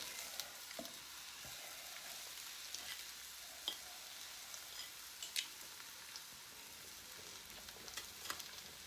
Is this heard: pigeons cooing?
no